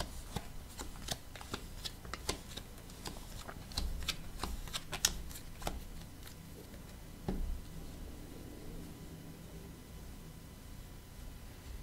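Tarot cards are shuffled close by in a quiet room during a card reading, giving a long run of crisp riffling snaps and flicks that come in irregular bursts and then trail off into softer rustling.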